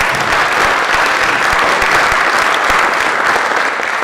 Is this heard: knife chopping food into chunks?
no